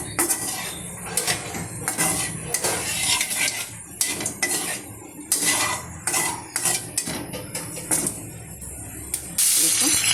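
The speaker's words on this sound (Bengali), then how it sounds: "দেখুন, আমি দিয়ে দিয়েছি চিংড়ি মাছ কড়াইতে, কোচানো পেঁয়াজ, কাঁচা লঙ্কা, আদা বাটা, রসুন বাটা," Shrimp sizzle in a hot wok with onion, green chili, ginger paste and garlic paste, with a loud hiss and repeated clanks of a metal utensil stirring and scraping the pan.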